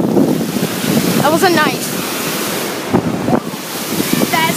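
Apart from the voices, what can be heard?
ocean waves splashing at the beach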